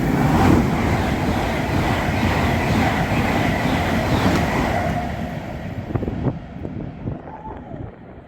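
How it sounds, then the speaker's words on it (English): A Class 801 train rushes through Northallerton station on a London King's Cross service, a loud, steady roar of wheels and wind with faint clickety-clack that fades away toward the end, with no voices. "801-210 flying through to London King's Cross"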